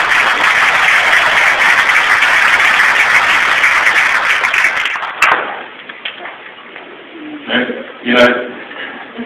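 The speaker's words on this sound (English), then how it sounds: "I appreciate the applause" An audience at a public meeting with a senator applauds loudly and steadily for about five seconds, then the clapping cuts off and a few thumps and a voice follow in the quieter room.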